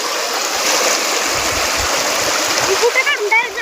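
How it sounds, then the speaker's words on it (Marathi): Water rushes steadily over the waterfall at Sautada near the Rameshwar temple in Beed, a continuous broadband roar close by, with faint high chirps or whistles appearing near the end. "बघा मित्रांनो हे पाणी वाहतंय असं"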